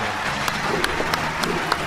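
An audience claps for Jim Maibach at a 2022 annual show, a fairly steady round of applause with a few sharper claps standing out.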